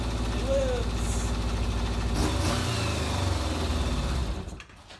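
An old Kawasaki motorcycle engine running after restoration, a steady close idle with a low throbbing rumble that holds for several seconds before cutting off abruptly near the end.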